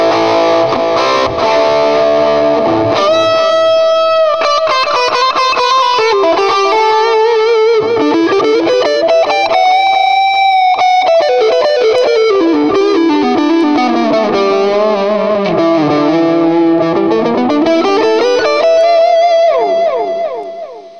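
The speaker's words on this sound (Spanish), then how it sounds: "Unos gabinetes diferentes que suenen con más distorsión." Electric guitar played through a Cuvave Cube Baby pedal with heavy distortion and effects, loud and sustained, with bending, sliding lead notes and chords filling the whole passage without pause.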